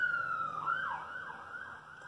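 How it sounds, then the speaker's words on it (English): An emergency vehicle siren wails outside, its rising and falling tone fairly faint and distant as it passes, with no other sound competing. "Sirens again."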